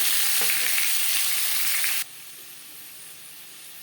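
Pumpkin and cauliflower stems being stirred as they fry in a pan for a vegetarian chochori, a loud steady sizzle with scraping that drops to a quieter hiss partway through.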